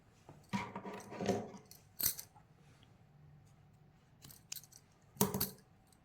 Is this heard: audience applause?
no